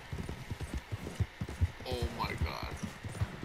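A horse gallops in the Western video game Red Dead Online, its hooves beating a steady, rhythmic clip-clop throughout while people talk over it.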